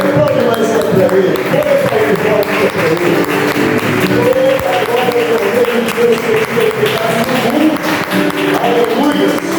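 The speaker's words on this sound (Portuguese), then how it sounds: "Aplaude mais para ele." A worship congregation gathered in a garage keeps clapping loudly, dense continuous applause under voices and sustained music, steady across the whole stretch.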